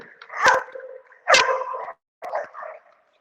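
A dog at a dog park gives three sharp snapping barks and growly yips during rough play, each burst close and loud, separated by short pauses.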